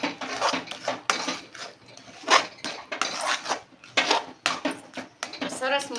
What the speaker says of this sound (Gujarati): ઉપરથી પાછું 1 ટીસ્પૂન જેટલું આપણે ઘી નાખીશું, જેથી સરસ સ્મેલ આવશે શીરામાં ઘીની, અને બધું મિક્સ કરી લઈશું.